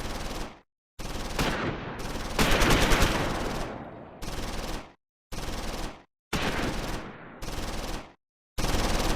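Bursts of machine gun fire in Close Combat 4, a World War II Battle of the Bulge strategy game, sounding in several loud, abrupt volleys separated by short silences.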